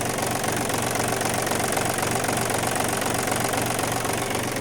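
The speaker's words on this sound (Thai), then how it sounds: "เครื่องดีอยู่นะครับ ติดง่ายนะครับ เครื่องร้อนเครื่องเย็นติดง่าย" An ISEKI TU-180PS tractor's diesel engine runs steadily at idle, a loud, even knocking rumble with constant vibration and no pauses.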